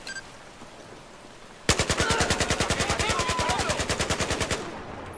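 An automatic weapon in the Battlefield 4 video game fires one sustained burst of about three seconds, rapid and evenly spaced. The shots are loud and close, and they cut off abruptly.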